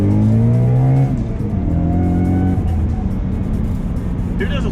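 A 650-horsepower sports car accelerates hard, its loud engine climbing through rising revs with a brief shift break in between, close and continuous for several seconds.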